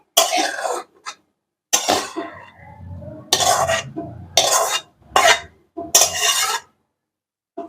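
Fried radish with egg is served onto a dish in short scraping and clinking bursts of a utensil against the plate, separated by brief silences, close and distinct.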